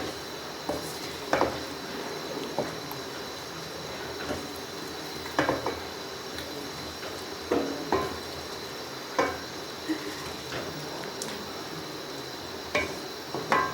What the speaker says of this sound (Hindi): पालक और आलू अच्छी तरह मिक्स हो चुके हैं